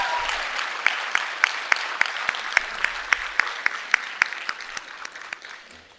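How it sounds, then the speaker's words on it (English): At a school board meeting, a small group claps for the Plantation Park Elementary team, each clap sharp and distinct, landing in a quick, even rhythm that thins out near the end. "let's give PPE another big round of applause"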